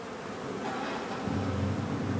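Honeybees hum steadily on comb inside a hive, a close, continuous buzzing drone with no voices heard.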